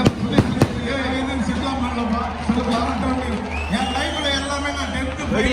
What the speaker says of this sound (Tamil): இவர் பாடின உடனே பயங்கரமா கிராக்கர்ஸ்லாம் வந்து